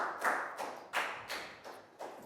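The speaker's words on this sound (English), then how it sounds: "Big round of applause for Pangpon." A small Year 4 class applauds a pupil: about six or seven separate bursts of hand clapping, close and moderately loud, with brief pauses between them and no talk.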